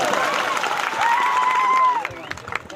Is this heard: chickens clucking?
no